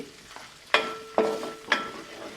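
Gongura garlic chicken sizzles in a pan on a low stove flame, with three sharp stirring scrapes spaced about half a second apart over the steady frying hiss.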